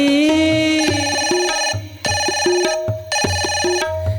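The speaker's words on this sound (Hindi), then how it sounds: "घंटी बजी" A telephone rings in repeated electronic trill bursts, loud and close, with short pauses between rings and no talking.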